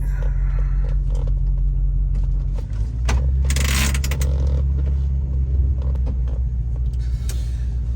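A 1994 Chevrolet Caprice engine rumbles steadily nearby with low droning hum, creaks and mechanical clunks as the car is driven and parked.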